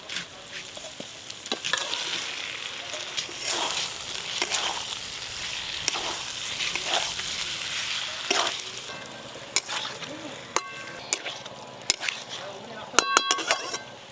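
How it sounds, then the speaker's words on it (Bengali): Fried potatoes hit spiced oil for khichuri, sizzling steadily while a utensil stirs and scrapes the pan in repeated strokes, with a few bright metallic clinks near the end. "এবার ভেজে রাখা আলু দিয়ে দেবো"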